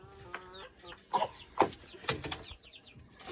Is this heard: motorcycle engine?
no